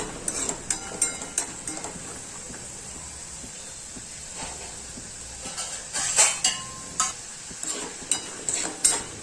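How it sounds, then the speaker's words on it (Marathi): Sandge, dried lentil dumplings, frying in hot oil with a steady close hiss and sizzle, overlaid by repeated scrapes and clinks of a spoon stirring against the pan. "आता तेलामध्ये सांडगे टाकते सांडगे तळून घेते"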